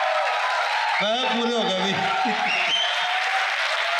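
An audience at a 2025 Punjab drama competition applauds a university's play with steady, even clapping throughout, while a voice speaks over it partway through.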